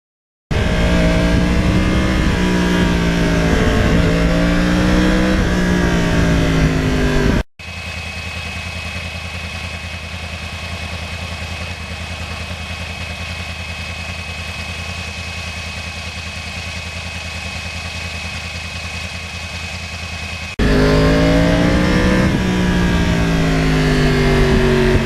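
2020 Yamaha R1 engine revving while riding, loud close engine note with rising and falling pitch sweeps, broken by a long quieter stretch of steady drone before the revving returns.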